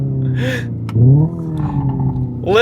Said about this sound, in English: Listen to those backfires.